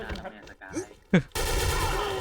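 Gunfire from a Silver ARX16 rifle in the shooter game XSHOT, a loud sharp shot after a few short vocal exclamations, then a dense sustained burst of rapid fire.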